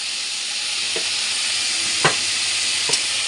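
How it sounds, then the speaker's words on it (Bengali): Ground cumin and chili powder frying in oil in a pan, a loud, steady sizzle close by with a few soft scrapes of stirring and no voices. "আমি মশলাগুলোকে আগে কষিয়ে নিই।"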